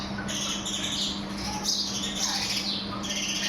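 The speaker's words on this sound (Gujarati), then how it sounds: "સવારમાં ચકલી પહોંચી ગઈ છે પાણી પીવા" A sparrow arriving in the morning to drink water gives a few short, sharp chirps and squawks close by over a low, steady background hum, with no voices.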